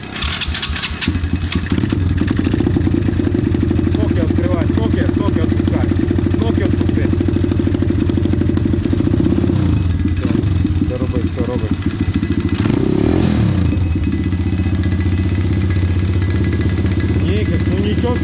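A pit bike engine is started and then runs in loud, close, rough pulses that rise and fall with the throttle and never stop, while people talk over it.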